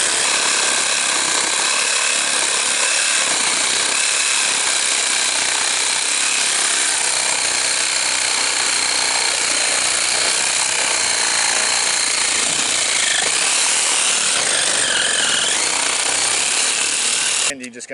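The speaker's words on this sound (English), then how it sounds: "Sawzall blade. You're just going to get yourself a hole started." Sawzall reciprocating saw cutting through asphalt roof shingles to open a hole for a solar roof fan, a loud, continuous buzzing rasp of the blade at close range, steady for the whole stretch before stopping abruptly.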